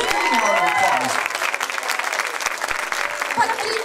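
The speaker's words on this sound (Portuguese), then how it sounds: "Pode aplaudir, Jesus." A church congregation at a worship service applauds loudly, a dense sustained clatter of many hands, with a preacher's voice speaking over the start.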